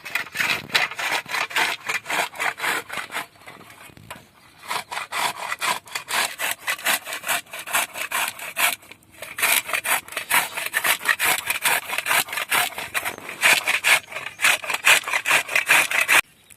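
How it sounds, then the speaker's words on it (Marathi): Coconut grated finely on a hand grater for coconut barfi, producing a loud, fast, steady run of rasping strokes close up that pauses briefly twice and carries no speech. "आता किसणीच्या सहाय्याने आम्ही खोबरं बारीक किसून घेणार आहोत"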